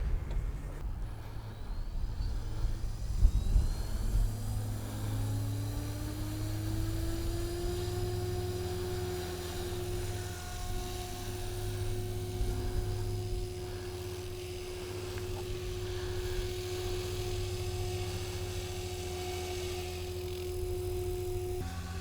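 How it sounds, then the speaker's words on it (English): A Tron 5.5 500-size RC helicopter flies outdoors, its whirring motor and rotor tone climbing in pitch and then holding a steady drone, faint and at a moderate distance, with a light breeze and no talking. "this helicopter is my trainer"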